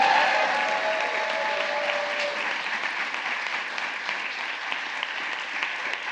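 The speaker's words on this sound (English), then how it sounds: "You can clap for that because this lady did." Steady audience applause at a Washington, D.C. bill signing for the National Museum of Asian Pacific American History and Culture, a continuous dense patter of many clapping hands at even loudness throughout.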